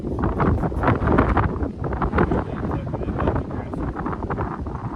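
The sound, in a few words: wind blowing on a fishing boat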